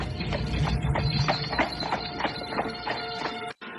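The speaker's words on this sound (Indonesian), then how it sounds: "mendengarkan kereta kuda Mak Rompang yang semakin jauh meninggalkan desa Bojong Nangka" Steady rhythmic clip-clop of a horse-drawn carriage's hooves at a trotting pace, moderately close, moving away, over a constant rumbling background.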